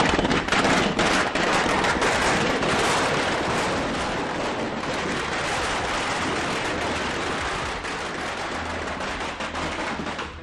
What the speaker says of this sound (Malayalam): പടക്കം പൊട്ടിച്ച് സുധാകരൻ അനുകൂലികൾ